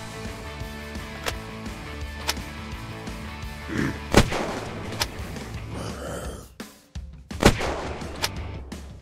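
Pistol gunfire in the video game Unturned: a handful of sharp, loud single shots spaced irregularly, with a few exhaled gasps between them.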